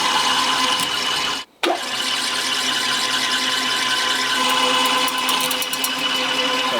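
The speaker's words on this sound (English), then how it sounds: "we just let the drill bit do the work, and it's all over in a couple of seconds." A steady, loud mechanical whine of a power drill running continuously inside a micro camper van, with a brief cut-out of sound partway through before the drilling resumes.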